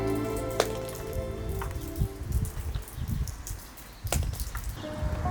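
Heavy rain falling at night on a walking route, a steady patter and spatter of drops on surfaces with a few sharper splashes and bursts, fairly close and continuous, with no voices.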